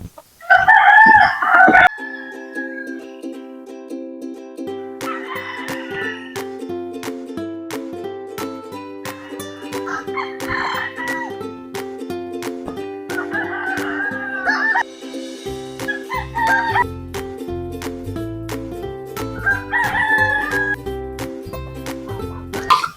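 Native chickens on a free-range farm crow loudly near the start, then cluck and call repeatedly against steady background noise, with more crowing and bird calls later on.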